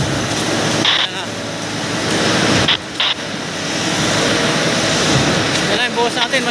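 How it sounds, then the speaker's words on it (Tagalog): Concrete being poured for a retaining wall on a building site in Laguna, a loud steady rushing pour with brief dips, while people talk throughout. "Medyo mabilis ang buhos natin ngayon guys."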